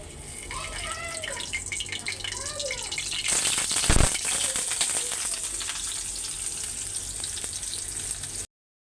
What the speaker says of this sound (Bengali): চুলায় তেলও গরম হইতাছে তরকারিগুলি এখন বসাই দিতেছি